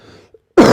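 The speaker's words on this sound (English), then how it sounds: "apologies for my coughing as well" A single short, sharp cough or throat clear bursts out loudly near the end, after a faint murmur and a moment of near silence.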